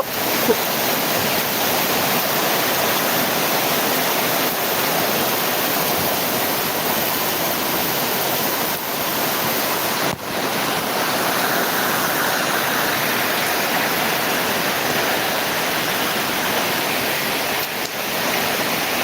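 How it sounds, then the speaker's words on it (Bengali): Heavy rain pours down steadily, a loud unbroken roar of water that fills the whole stretch without any talking. "প্রচুর পরিমাণে বৃষ্টি হচ্ছে"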